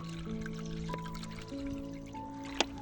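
Water poured into a bowl for stray dogs, a close, gentle trickle whose pitch rises as the bowl fills, ending in a small splash.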